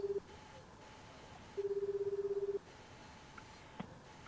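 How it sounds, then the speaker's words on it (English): A telephone rings in the video game 428: Shibuya Scramble: two bursts of a steady, warbling electronic ring, one brief and one lasting about a second, faint and alone over a low background hum. "The phone rang several times before someone picked up."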